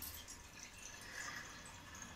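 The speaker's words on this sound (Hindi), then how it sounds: "तो मैं इसमें डाल रही पानी" Water being poured into a pot for making kadha, a faint, quiet trickling and splashing that runs steadily through the short clip.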